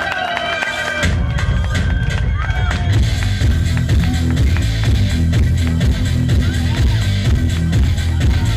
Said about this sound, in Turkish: Çok büyük alkış. El havaya.